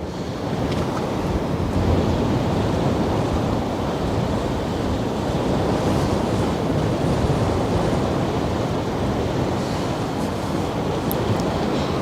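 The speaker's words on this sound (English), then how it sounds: "Wind is blowing north-northwest, that's right, at 25 kilometers an hour." Strong north-northwest wind, about 25 km/h, roars steadily across an outdoor microphone at the Westerschelde in the Netherlands, with a constant buffeting rumble and waves washing underneath for the whole stretch, no voices.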